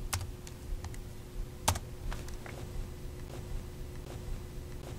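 Keystrokes on a computer keyboard entering a search on the Windows 8 Start screen, a steady scatter of light clicks with one sharper tap, close and alone over a low steady hum.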